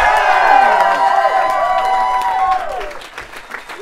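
Loud crowd cheering and applause at a live DJ set, a dense roar of whoops and clapping close up that swells, then tapers off toward the end.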